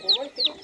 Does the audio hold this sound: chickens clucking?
yes